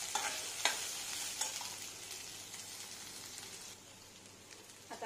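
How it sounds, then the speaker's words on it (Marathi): Green chili, ginger and garlic sauté in a pan, with a soft continuous sizzle and a few sharp spoon clicks near the start, then quieter frying. "त्यातच आपल्याला एक हिरवी मिरची, थोडस आलं व 7-8 लसूण पाकळ्या टाकायच्या आहेत व त्यालाही आपण चांगलं परतून घेऊया।"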